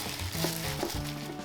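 Ground meat is squished and kneaded by hand with chopped green onion, giving soft, wet, close squelching and crinkly rustles in an irregular rhythm with no talking.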